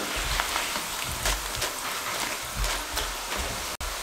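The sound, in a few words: potato chips frying in oil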